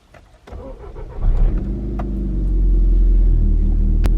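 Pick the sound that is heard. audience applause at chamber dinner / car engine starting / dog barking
car engine starting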